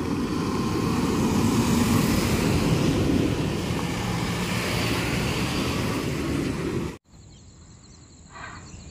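A Maharashtra state transport (ST) bus passes on a road near Kolhapur with a loud, steady engine and road roar. It holds for about seven seconds, then cuts off abruptly to near quiet.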